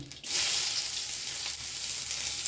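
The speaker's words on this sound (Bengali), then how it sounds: "তেলের মধ্যে দিয়ে দেবো প্রথমে কালো জিরে শুকনো লঙ্কা আর পেঁয়াজ কুচি" Black cumin seeds, dried red chili and chopped onion hit hot oil with a sudden loud burst, then settle into a dense, steady close-up sizzle and crackle.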